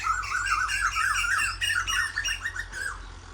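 Several Asian koels calling from village trees in Punjab, loud rising and falling squawking calls overlapping in quick succession, close and continuous over a low background hum.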